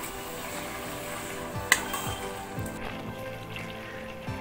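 Chicken for Muradabadi biryani sizzles as it roasts in the pot, a steady hissing crackle like light rain with one brief sharp clink midway.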